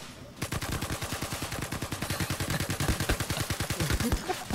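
Rapid automatic gunfire in the video game Star Citizen, a fast steady burst of loud shots lasting several seconds, with faint voices under it.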